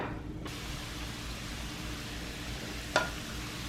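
Food sizzling in a pan while a Blue Apron meal cooks undisturbed in an even layer, a steady soft hiss with a single brief clack near the three-second mark, no speech.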